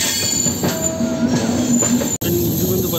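Madurai–Tirupati summer special express, a three-tier passenger train on a single-line route, rolling steadily with sustained rail noise, faint squealing wheel tones and a brief sharp break near the end.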